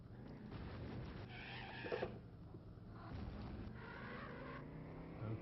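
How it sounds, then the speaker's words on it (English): A Dodge Viper sports car doing donuts and peeling out, its engine a sustained, fairly loud roar that swells and dips in pitch as it revs, with no talking. "We're going to do donuts some peeling out"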